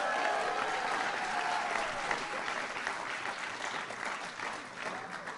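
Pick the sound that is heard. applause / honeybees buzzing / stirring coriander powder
applause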